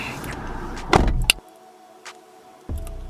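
Car door unlatching and swinging open with a loud clunk and creak, followed by quiet cabin hum and a second thud near the end.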